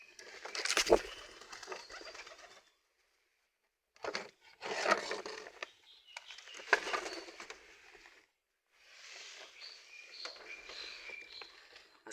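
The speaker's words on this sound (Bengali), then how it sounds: "কবুতর দরজাটা এখন খুলবো একটু, কবুতর ছাড়তে হবে" Pigeons at a coop give soft bursts of cooing and rustling as the coop door is opened, several short close clusters separated by brief silences, with a little wing movement and no speech.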